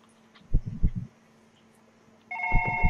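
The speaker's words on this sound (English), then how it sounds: "Is that phone ringing?" Office telephone ringing late at night, a steady electronic tone that begins near the end after a few muffled thumps, fairly close and alone without talk.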